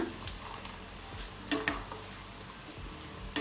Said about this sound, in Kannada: ಮೀಡಿಯಂ ಫ್ಲೇಮಲ್ಲಿ ಚೆನ್ನಾಗಿ ಫ್ರೈ ಮಾಡ್ಕೊಳ್ಳೋಣ